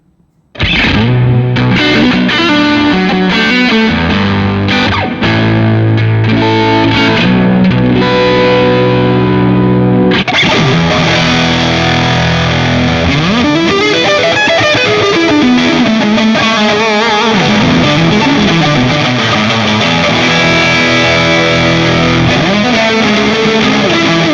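Distorted electric guitar plays through heavy amp modeler presets on a TONEX pedal, first chordal riffs, then a thicker, swirling modulated tone with bends, loud and continuous.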